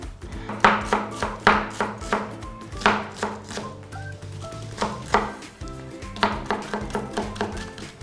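A knife slicing through an onion on a cutting board, a quick run of sharp, crisp chops in an uneven rhythm, close and clear.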